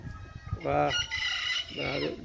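A chicken clucks and lets out drawn-out, crowing-like calls in a few bursts while a wing band is put on, fairly close, with faint background noise.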